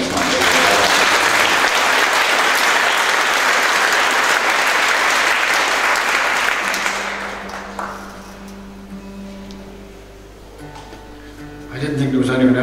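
An audience at a live folk concert applauds, steady, dense clapping that carries for several seconds before tapering off into a quiet hall with a few scattered sounds.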